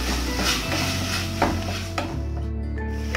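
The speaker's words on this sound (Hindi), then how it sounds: "इसके अंदर मैं चॉप किया वो टोमेटो ऐड करूँगी इसको भी सॉफ्ट होने तक मैं फ्राई करूँगी अच्छी तरह से" Onions and chopped tomatoes frying for Mumbai street-food style pav bhaji, with a steady pan sizzle under spoon-stirring scrapes and light utensil clinks, close and continuous.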